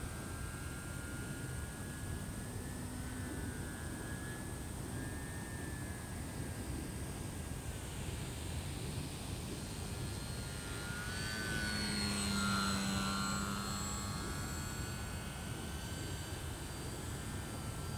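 An E-Flite P-51D Mustang RC model airplane flies overhead, its faint electric whine rising and falling in pitch as it passes, set against steady wind noise outdoors.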